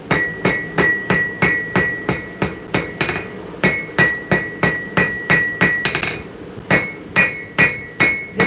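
A hammer flattens hot steel on an anvil during a forging session in a sweltering workshop: about twenty loud, ringing metallic strikes in a steady rhythm, each with a short bright ring, with a brief quicker flurry partway through.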